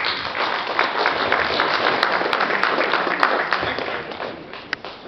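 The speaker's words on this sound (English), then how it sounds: "Please, let's keep the applause going for Dr." An audience at a presentation applauds Dr. Chaudhry with a sustained, even roar of clapping that slowly thins toward the end, with a few sharp taps.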